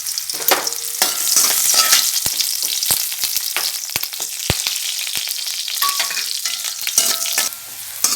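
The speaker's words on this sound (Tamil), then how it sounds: "எண்ணெய் காஞ்சிட்டு இப்போ பூண்டு அதோடு போட்டுடலாம்" Garlic cloves fry in hot oil for sesame idli powder, giving a dense, steady crackling sizzle close up, with sharp spits and pops scattered throughout and no voices.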